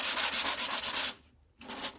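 Hand sanding on a panel to smooth out imperfections: quick rhythmic back-and-forth rasping strokes, close and clear, pausing briefly before resuming.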